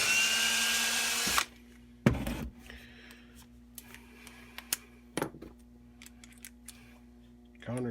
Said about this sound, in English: All right, let's get another one drilled.